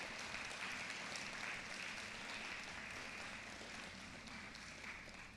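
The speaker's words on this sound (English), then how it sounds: "if you would give the staff a round of applause" A commencement ceremony audience applauds the staff, a dense, steady wash of clapping from a large crowd filling the whole stretch at even loudness, gradually easing slightly toward the end.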